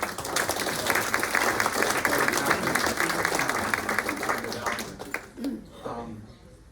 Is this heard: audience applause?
yes